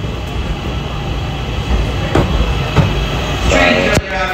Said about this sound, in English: About to jump on the train to Edge Street, apparently.